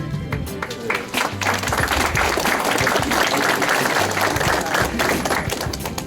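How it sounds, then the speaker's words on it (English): A crowd applauds steadily for several seconds, a dense, sustained wash of clapping with some voices mixed in. "Round of applause."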